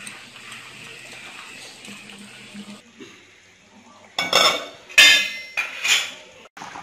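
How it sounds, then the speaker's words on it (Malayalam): A metal lid clatters onto a pot of Kerala-style fish curry cooking in a village kitchen, several sharp clanks and scrapes in quick succession, loud and close, after a stretch of soft simmering. "നമുക്ക് അടച്ചു വെക്കാം, മൂടി വെച്ച് ഉപയോഗിക്കാം."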